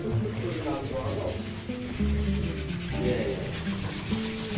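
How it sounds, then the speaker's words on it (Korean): Sandpaper rubs steadily across the wood of a handmade wooden cross in repeated scraping strokes, close and moderately loud, with musical tones sounding underneath throughout. "이건 나무에 따라서 사포의 소리도 달라요."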